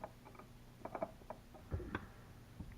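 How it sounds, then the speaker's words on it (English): A straight screwdriver turns an old electrical outlet's screw, giving faint, irregular small clicks and scrapes of metal on metal, close and quiet. "I got the top one out with a straight screwdriver."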